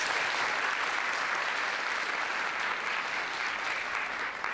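A symposium audience applauds for a group of student presenters, a dense, even wash of clapping that holds steady for several seconds.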